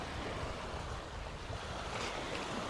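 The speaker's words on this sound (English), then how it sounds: "So they have this jetty here to block the waves" Ocean waves wash near a jetty on a Maldives island, a steady broadband surf rush mixed with wind buffeting the microphone, continuous and fairly loud with no voices.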